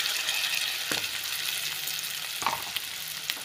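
Ground masala with chili powder being stirred and fried in a pan for egg gravy, a steady close sizzle with a couple of sharp scrapes of the spoon.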